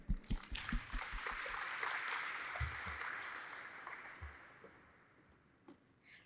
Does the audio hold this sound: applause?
yes